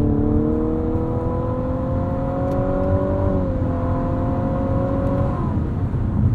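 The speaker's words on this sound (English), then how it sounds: "Engine sounds kind of funky." A 2022 Infiniti QX55 Essential AWD with a CVT revs in sport mode, its engine note rising steadily in a smooth drone, dipping slightly midway and climbing again, heard from inside the cabin with tire and road rumble beneath.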